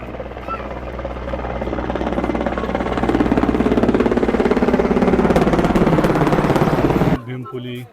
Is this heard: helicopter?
yes